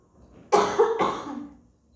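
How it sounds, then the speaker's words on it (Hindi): A single throaty cough bursts out, followed by a second quieter cough about half a second later, close and fairly loud against an otherwise quiet room with no speech. "सॉरी फ्रेंड्स, राहु बोलते बराबर खांसी आई।"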